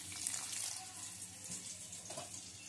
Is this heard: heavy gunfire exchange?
no